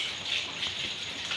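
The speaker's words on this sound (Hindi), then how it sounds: "मैंने कहा वाह इतनी बारिश हो रही है" Heavy rain pouring outside before dawn at 4 am, a steady hissing wash of water with a faint rattle, continuous and moderately distant, with no voices.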